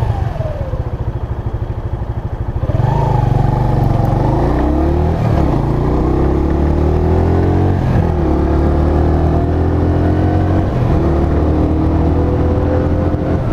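A Mash Seventy Five motorcycle engine fitted with a 14-tooth sprocket idles loudly and steadily nearby, then picks up with a clattering rumble and a few rising revs.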